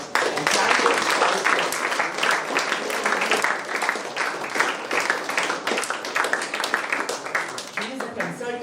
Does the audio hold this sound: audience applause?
yes